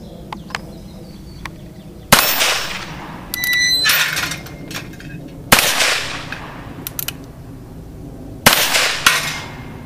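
Three sharp, loud shots from a Ruger Single Six revolver, evenly spaced and nearby, each followed by a decaying ring, with faint quieter clicks and sounds between them.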